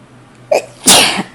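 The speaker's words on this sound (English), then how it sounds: "I guess I have to sneeze twice" A person sneezes sharply and loudly at close range, a short inhaled catch followed by one explosive burst, with no talk around it.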